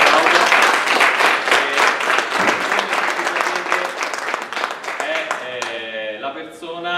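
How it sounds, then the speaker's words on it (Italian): A seminar audience in Rome gives a guest a big round of applause, dense clapping that thins out near the end as a faint voice and tonal sounds begin to come through. "al quale manderei un grandissimo applauso."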